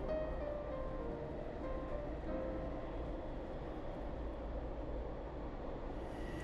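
Constant roaring rumble of a Long Island Rail Road commuter train moving through a tunnel toward Manhattan at up to 60 mph, a dense low drone with faint squeals and no voices.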